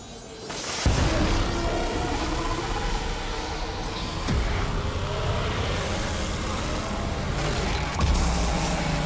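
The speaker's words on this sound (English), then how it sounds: "Is revving up his engine for the ultimate display of daredevilry." An engine revs in the game THE FINALS as a loud, continuous roar with surges and a few sharp impacts, close and dense throughout.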